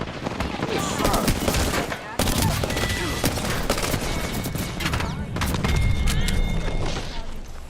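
Rapid video-game gunfire crackles in dense bursts of automatic shots and booms, loud and continuous across the firefight, with brief pauses between volleys.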